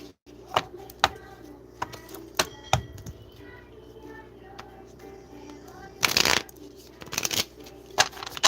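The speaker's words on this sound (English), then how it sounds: "Let me shuffle the cards." A deck of tarot cards is shuffled close by in irregular bursts of riffling, snapping and soft clicks, with a louder flurry near the end and faint background murmur.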